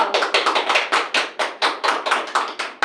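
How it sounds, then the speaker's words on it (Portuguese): Hands clap in a steady, even rhythm at a podcast chat, about a dozen sharp, close claps spaced evenly, with no talk over them. "Vamos bater palmas aqui, ó."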